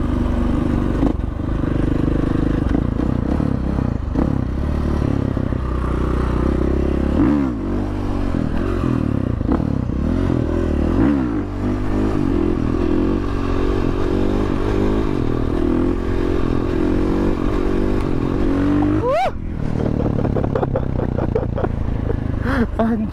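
A Honda Beat motorcycle ridden in a wheelie, its engine droning loud and close with revving surges and clattering, while people talk over it.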